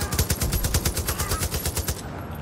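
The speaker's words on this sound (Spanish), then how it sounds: "¿Quién me está disparando?" Rapid automatic gunfire in the video game Far Cry 5, a close, loud, evenly paced burst of shots that runs for about two seconds and then stops.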